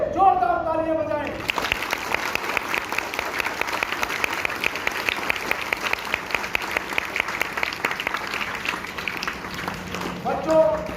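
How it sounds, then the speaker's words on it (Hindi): Schoolchildren at a celebration of Dr. B. R. Ambedkar's birth anniversary break into loud, sustained clapping that fills the room for about ten seconds, with an adult voice speaking briefly before and after. "बच्चों अपने लिए जोरदार तालियां बजाएं"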